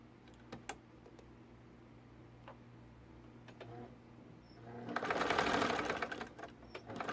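Sewing machine stitching a line across quilting fabric for a half square triangle, quiet ticks at first then a steady loud whirring run of stitches near the end.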